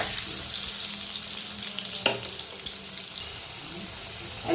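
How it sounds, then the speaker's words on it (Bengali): Potatoes seasoned with salt and turmeric fry in a pan for a paneer curry, making a constant loud sizzle with one brief knock partway through. "আলুগুলো ভাজবো।"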